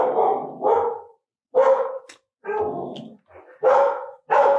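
Dogs bark outside a property in a run of about six loud, close barks, some in quick pairs, separated by short silences.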